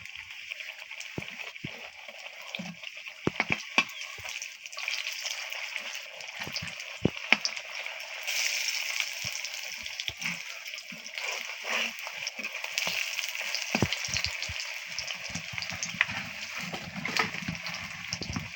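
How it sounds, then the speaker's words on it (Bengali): Potato chops filled with beef and carrot frying in hot oil, a steady broadband crackle with scattered sharper pops and low clicks throughout, fairly close and continuous. "আমি আর একটু কড়া করে ভেজে নামিয়ে নেব"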